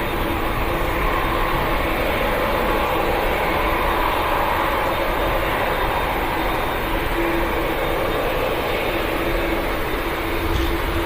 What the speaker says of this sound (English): Ryanair using quite a bit of runway